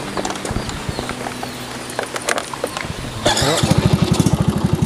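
An old motorcycle sputters through a few rough start attempts, then catches and settles into a loud, close, rapidly pulsing idle as it gets going.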